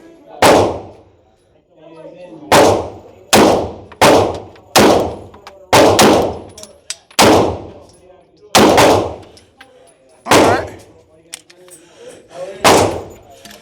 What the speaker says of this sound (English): Let's see if we can keep the good shooting going.